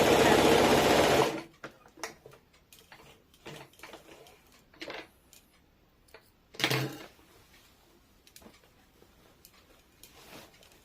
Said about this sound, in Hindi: इसी प्रकार से दोनों पैरों का सिलाई कर लेंगे।